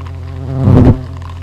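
Insects buzz at the entrance of a beehive under hornet attack, a close, loud droning hum that swells for a moment as one passes near, then settles back to a steady buzz.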